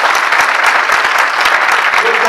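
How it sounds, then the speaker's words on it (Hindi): A church congregation claps steadily and loudly at an Urdu-language sermon, a dense wash of many hands that carries on through the whole short stretch. "कितने लोग यीशु मसीह को दुनिया का नूर समझते, खुश हैं, तालियां बजाते हैं।"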